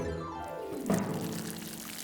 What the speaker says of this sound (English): Grandpa stood behind the watering can and carefully lifted it up.